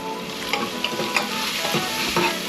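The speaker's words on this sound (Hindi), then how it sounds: "और उसके बाद में ये मसाला और सब तेल के साथ में अच्छा से भूनना है, थोड़ा मिक्स करना है" Chicken curry masala with Kashmiri red chilli powder frying in oil, a loud continuous close sizzle broken by several scraping stirs of the spoon.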